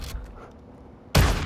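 Shotgun slug rounds in Call of Duty Modern Warfare II: a single loud, booming blast bursts in near the end after a quiet stretch, with a fainter shot tail at the start.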